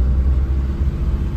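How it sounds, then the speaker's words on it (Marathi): Car engine labouring in first gear up a steep, tightly winding ghat section of the Mumbai–Goa highway, a steady loud low rumble from inside the car, no talk. "पण पहिल्या गेअरवरतीच गाडी चढूया सावकाश."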